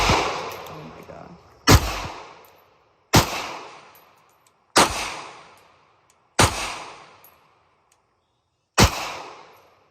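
A Ruger Security .380 pistol fired five times at uneven intervals, each shot a sharp, loud crack with a brief ringing decay, followed by short gaps of near silence.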